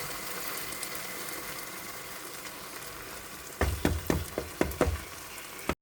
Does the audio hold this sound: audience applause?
no